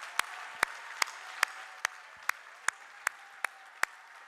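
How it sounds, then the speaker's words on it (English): An audience at a formal President's Club dinner night applauds, a dense wash of clapping with a few sharp, evenly spaced louder claps standing out from the crowd, steady and moderately near for several seconds. "Let's give them a round of applause."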